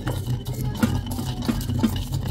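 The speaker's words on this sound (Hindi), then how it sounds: "ऐ देखो लाचियाँ कुट रही हैं, चंगी तरह कुट रहे हैं" Cardamom pods for tea are pounded in a steady rhythm of dull knocks and grinding scrapes, close and fairly loud, with a low background hum.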